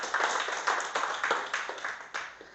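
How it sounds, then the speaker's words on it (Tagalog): A church congregation claps for the Lord in a steady rhythm of sharp, close hand claps, roughly three per second, filling a room with no voices over them. "Palakpakan natin ang Panginoon."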